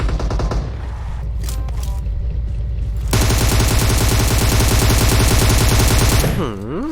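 Rapid automatic gunfire rattles from a rifle in PUBG Mobile, starting with a few scattered shots and then breaking into a sustained, loud burst of fire before cutting off abruptly near the end.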